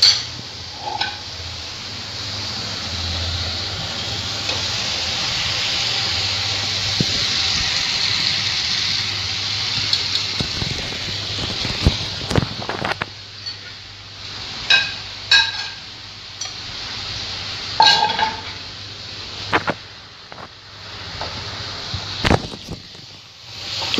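Potatoes and pointed gourd go into a pan of masala gravy with a steady sizzle, while scattered clinks and scrapes of a utensil against the pan grow more frequent toward the end.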